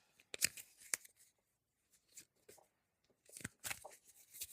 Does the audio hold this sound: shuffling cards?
yes